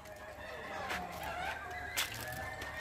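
Rooster calls, with crowing and clucking, at Jashauli Agro Farm in Motipur block, Bihar. Drawn-out tonal calls rise over steady farmyard background noise, with a couple of brief louder bursts.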